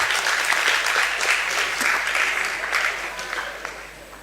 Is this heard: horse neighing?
no